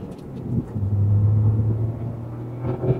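A modified Toyota GR Yaris accelerates from second gear, its engine droning low and steady from inside the cabin, rising briefly before easing off near the end.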